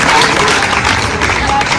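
Audience at a government ITI disaster management training session in Barwala, Hisar claps steadily and densely throughout, a continuous loud patter of many hands close by.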